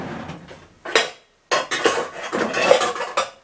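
A frying pan is handled while pancakes are reheated. Close metallic clanks and clattering of the pan and utensils come in a few loud bursts with a short silent gap.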